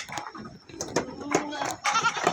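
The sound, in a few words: goat bleating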